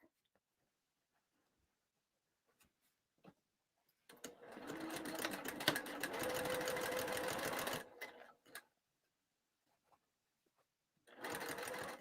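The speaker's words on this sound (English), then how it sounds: "We're going to stitch starting at the corner and back tack." A sewing machine stitches a bag lining, with one steady run of needle whirring lasting several seconds. A second shorter run follows after a pause, with small handling clicks in between and no talking.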